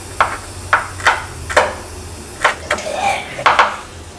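A knife chops green chillies on a board in steady, crisp knocks, about eight cuts spaced roughly half a second apart, close and clear over a low background hum.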